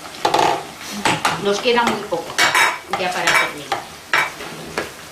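Potatoes frying in oil for a Spanish potato tortilla are stirred in the pan, with repeated scraping and clattering strokes over a sizzling background and a brief word spoken.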